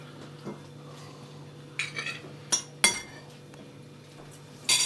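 A few sharp metallic clinks of a fork against dishes, spaced irregularly in a quiet room with a low steady hum.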